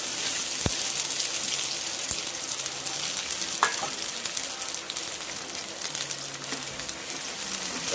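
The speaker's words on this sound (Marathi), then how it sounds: "मस्त असे तडतड आवाज येतो मस्तपैकी त्याच्यामध्ये आता हा घेतलेला एक मिडियम साईजचा कांदा उभा कापून तो फोडणीला टाकला" Vertically sliced medium onion dropped into hot tempering oil for a cauliflower curry, crackling and sizzling steadily and close, with a few sharp utensil taps and no voices.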